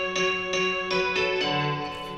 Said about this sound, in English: that's what it sounds like after Guitar Rig